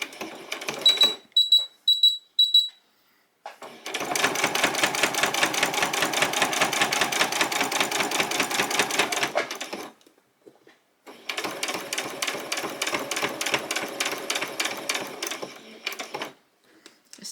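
Sewing machine running in long, steady mechanical bursts as it stitches backward over Velcro, using a larger presser foot, with brief clicks and short pauses between runs; no talking.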